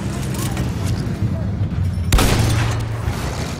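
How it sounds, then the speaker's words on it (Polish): A loud boom from a shot destroying a tank in the Battlefield 1 World War I campaign hits once partway through, ringing out over continuous battle noise and rumble, with someone talking through the clip. "Ten czołg musimy rozwalić."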